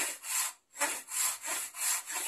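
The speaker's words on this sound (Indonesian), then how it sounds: "Salah satunya adalah gergaji, atau yang disebut gergaji senteng oleh orang Jawa." A traditional Javanese hand saw (gergaji senteng) cuts through wood in about five steady back-and-forth strokes, each a close, rasping stroke with a brief pause between, heard alone.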